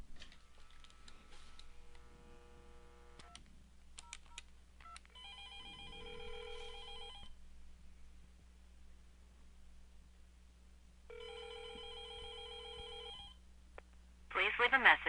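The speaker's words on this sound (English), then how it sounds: "we're going to dial Bethany's number at extension 2002." An office desk phone on an Exchange 2013 system, with key beeps and then two bursts of an electronic ring several seconds apart over a low hum, followed by a recorded voice prompt.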